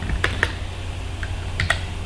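A few crisp computer keyboard keystrokes, close and clear, come in two quick bursts of two or three presses with a short pause between, over faint room tone.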